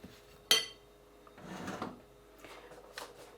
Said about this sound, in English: Stir that around, mix it up.